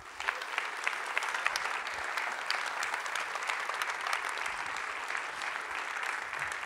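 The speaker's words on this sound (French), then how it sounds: "je vous demande s'il vous plaît de faire un tonnerre d'applaudissements pour Jean-Pierre Nadir" A large audience at an evening entrepreneurship and innovation conference breaks into sustained, dense applause, steady and even throughout with no voices over it.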